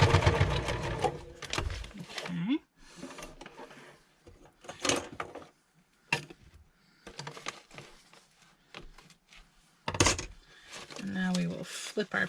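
A sewing machine stitches trim onto a handmade journal page in short, stop-start runs of rapid mechanical chatter, fairly close, with pauses between bursts.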